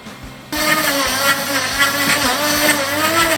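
A Vitamix blender kicks on abruptly and roars loudly and steadily, grinding nuts toward a butter-like praline filling, its motor whine holding a constant pitch under a rough churning texture.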